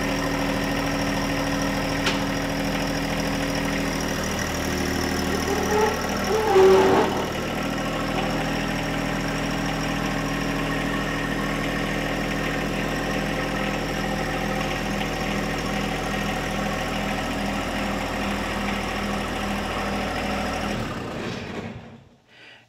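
Compact tractor engine idling steadily on a concrete floor, a constant low mechanical drone with a brief clunk partway through, running alone without speech until it shuts off at the end.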